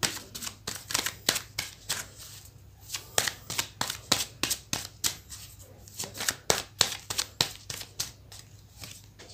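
Tarot cards being shuffled during a card reading: a rapid series of crisp, snapping card riffles and flicks repeating steadily throughout, close and fairly loud, with no talking.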